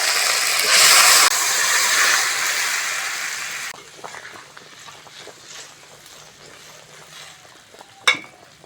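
Broth poured onto fried cumin, ginger and green chilli in a pan gives a loud, close sizzling hiss for about three and a half seconds, then it settles into a quieter bubbling simmer with a single sharp clink near the end.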